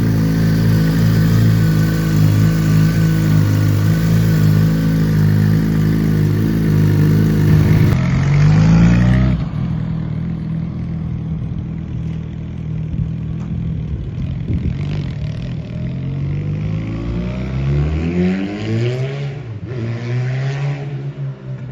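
A nearby engine runs loud and rough, revving up and down repeatedly with rising and falling pitch, then settles into a lower idling drone with more revs.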